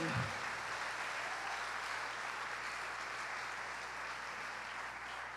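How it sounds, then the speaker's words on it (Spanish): A church congregation claps loudly and steadily, a dense sustained wash of applause that carries on evenly without a break and fades slightly toward the end. "Si va a aplaudir, apláudale fuerte al Rey."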